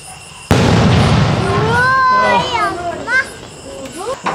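A Sivakasi single-shot firecracker bursts with one sharp, loud bang, followed by a crackling tail while children's voices call out over it.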